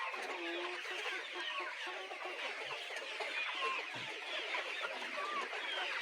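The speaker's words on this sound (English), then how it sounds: "The birds have started making the sound for" A flock of laying hens clucks and chatters continuously, many birds close together, busy overlapping calls with no pauses.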